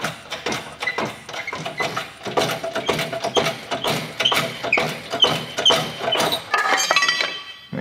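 A hand press ram forces a bearing out of a Johnson 30 HP outboard lower unit housing, producing a close series of ratcheting clicks, metallic clinks and creaks in an uneven rhythm as the lever is worked.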